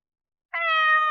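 A single cat meows once in a children's fairy tale, a clear, close, tonal meow of about 0.7 seconds that starts abruptly after silence and holds steady before cutting off.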